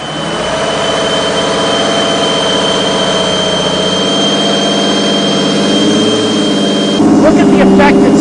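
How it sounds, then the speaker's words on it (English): A car engine running steadily at raised RPM during a coolant leak check, a loud continuous hum with harmonic tones holding for several seconds before a rougher, louder stretch near the end, with a voice faintly underneath. "What I'm going to do is try to increase RPM for a little bit."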